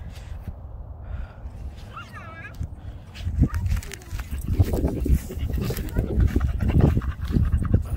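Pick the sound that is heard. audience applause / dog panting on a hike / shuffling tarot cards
dog panting on a hike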